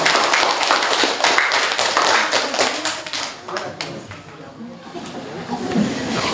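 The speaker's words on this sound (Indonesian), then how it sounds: "silakan tepuk tangan dulu untuk kelompok" A classroom audience claps for a student group about to present, steady crowded clapping for several seconds that thins out toward the end.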